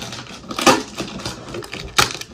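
A cardboard package box is ripped open by hand: a few sharp tearing and crunching bursts over a soft rustling background, close and with no talking.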